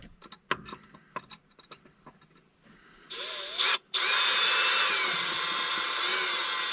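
A power drill with a bit spins up to a loud, steady whirring drill after a stretch of faint clicks and scraping, pausing briefly before running continuously.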